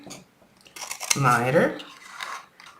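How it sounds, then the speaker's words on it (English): Scissors snipping paper along a score line while making a box, a few crisp close cuts with a rasping blade slide in the middle, and a voice talks briefly around them. "we're gonna cut up the third score line"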